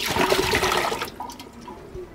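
Water is poured into a car's coolant reservoir to flush it, a close gushing splash for about a second that settles into softer trickling and dripping.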